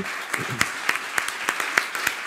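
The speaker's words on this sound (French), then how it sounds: "mais merci Gaël, vous pouvez l'applaudir aussi" Scattered handclaps ring out, a few people clapping in a sparse irregular rhythm over faint background murmur.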